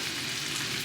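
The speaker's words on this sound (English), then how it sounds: "we're going to let these veggies saute here in this mixture of butter" Vegetables sauté in butter in a pan, giving a soft, steady sizzle and crackle throughout a brief moment, fairly quiet and with no voices.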